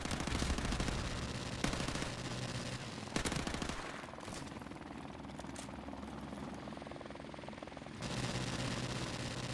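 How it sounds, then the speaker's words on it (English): Helicopter in the video game Call of Duty Modern Warfare Remastered, a steady rotor drone running throughout, loud and close, with bursts of machine-gun fire layered over it at intervals. "Stop doing that, helicopter."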